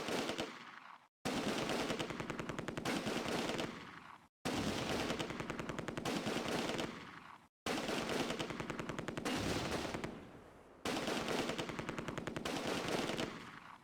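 Sustained MG42 machine-gun bursts in the wartime strategy game Close Combat, five long rattling volleys of rapid automatic fire separated by brief pauses, loud and close, with no talk.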